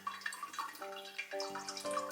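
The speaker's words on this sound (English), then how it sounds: "I'm going to take the excess water off." Excess water is pressed and drained from freshly made paneer, giving faint trickling and dripping sounds close by in a quiet kitchen.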